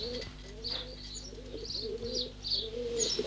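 Pigeons coo softly and repeatedly at a coal miners' home in 1950s France, gentle rounded calls recurring every half second or so over a quiet background.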